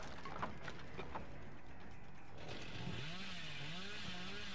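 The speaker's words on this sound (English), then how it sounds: "Kind of an early chainsaw here, but it's not bad." A chainsaw revs in the Dead by Daylight video game, a gritty buzzing drone that rises and wavers in pitch, loud and steady for several seconds with no talking.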